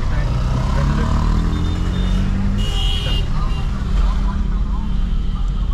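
A Maruti Swift automatic with an AMT gearbox rolls through crowded market traffic and potholes, its cabin filled with a loud, continuous engine and road drone, a brief higher whine rising in the middle.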